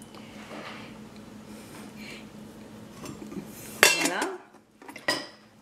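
A spoon stirs yogurt raita seasoned with salt and pepper in a bowl, quiet soft scraping followed by a few sharper clinks of metal against the bowl, close.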